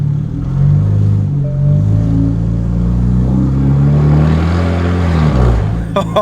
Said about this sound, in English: just a little bit of throttle makes this car scream with the race system